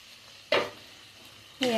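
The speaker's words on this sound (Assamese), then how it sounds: "এয়া ফুলকবি আৰু আলুখিনি প্ৰায় ভাজি হৈছে" Cauliflower and potatoes fry in a pan. Two loud bursts of sizzling and stirring are separated by a quieter stretch of low simmering.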